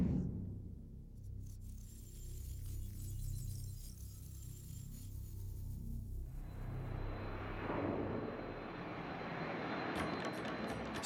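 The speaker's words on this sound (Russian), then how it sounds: "аэропорт Кимпо" A steady aircraft engine roar at Gimpo Airport in Seoul, a continuous loud drone whose character shifts partway through as a broader rushing whine swells in, with no voices.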